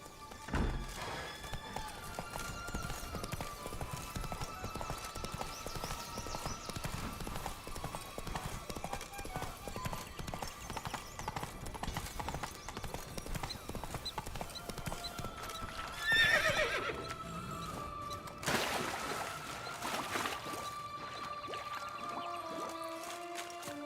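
A horse in the Witcher 3 video game gallops with a steady clip-clop of hooves and lets out several whinnies. Game music and ambience play underneath, and brief speech is heard.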